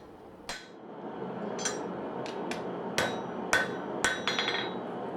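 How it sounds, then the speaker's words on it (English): A hammer strikes a guillotine tool while forging a clean step into the tang of a Japanese kitchen knife, ringing metallic blows landing at an irregular pace, close and sharp over a low background rumble. "This guillotine tool allows for the forging of a nice, clean, symmetrical step down into the tang"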